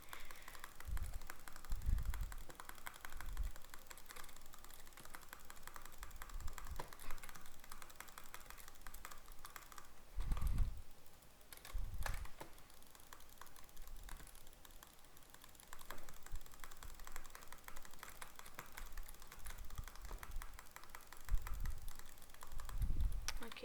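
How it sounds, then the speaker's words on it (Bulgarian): Clattering computer keyboard keys typed in quick irregular bursts close to the mic, with occasional heavier thumps, running steadily throughout during practice play in a game. "Съжалявам ако се чуя много гадна клавиатурата ми."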